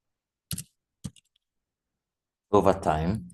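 Two sharp, isolated mouse clicks in quick succession, close and distinct, followed by a person starting to talk.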